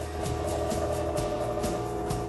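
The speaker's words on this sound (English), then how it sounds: "That is the sound of the iris, adjusting for the different brightness." The iris of an Epson 1080p LCD projector adjusts to changing brightness, giving a steady mechanical whir with faint rhythmic ticking pulses roughly every half second, close and continuous with no voices.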